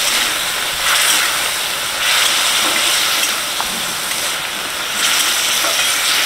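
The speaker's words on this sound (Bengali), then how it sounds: "চিংড়ি মাছ কষা হয়ে গেছে।" Shrimp sauté in a hot pan with turmeric and salt, giving a close, continuous sizzle that surges in rhythmic bursts as the mixture is stirred.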